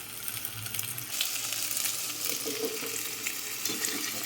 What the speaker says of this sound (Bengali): তেল গরম হয়ে গেছে এবার একটা একটা করে এইভাবে আমি কড়াইতে দিয়ে দিচ্ছি